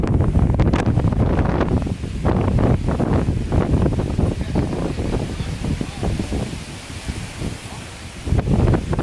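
Strong hurricane wind during Hurricane Irma roaring outdoors, buffeting the microphone in loud rumbling gusts that swell and ease, with rustling and rushing noise throughout.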